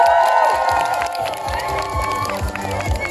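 Crowd cheering and applause for performers at a comedy show, excited shouts and clapping over loud music, with a lively children's camp audience.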